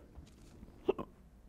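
A single quiet hiccup, one short sharp catch followed by a faint second burst, heard alone against near silence.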